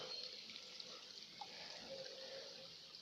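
Water pours steadily into a gold panning pan outdoors, a continuous soft rushing and splashing that keeps an even level from start to finish and carries no speech.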